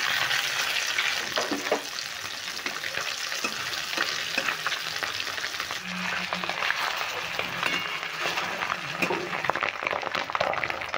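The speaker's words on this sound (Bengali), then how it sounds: "অর্ধেক ডিমগুলো আমি ভেজে নিচ্ছি।" Duck eggs fry in hot oil in a wok, giving a dense, steady sizzle with crackling spatters and occasional stirring scrapes, close and loud throughout.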